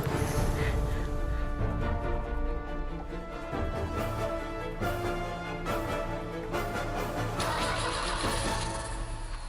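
A car engine cranks and struggles to catch, then stalls, with ragged starter grinding and sputtering bursts, fairly close and loud and heard alone.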